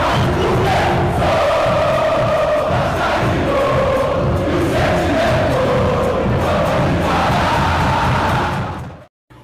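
A channel intro jingle plays loud and full for about nine seconds, with a crowd-like roar and chanting energy throughout, then cuts off abruptly near the end.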